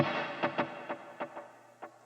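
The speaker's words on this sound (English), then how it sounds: "so you will have the ping pong delay effect happening between the left and right speakers" Short guitar notes repeat as echoes that bounce back and forth and fade quickly, with a soft effected wash underneath.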